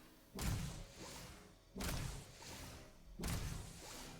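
Three heavy, booming shots from the AA Fuse hand cannon in Starfield, evenly spaced about one and a half seconds apart, each a loud thump followed by a fading rumble and mechanical tail.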